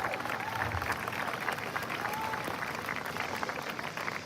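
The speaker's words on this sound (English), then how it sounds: "So give them a round of applause." Audience applause for a school principal and an acting athletic director at an evening school ice cream social: a steady, dense wash of clapping from a crowd that holds at an even level throughout.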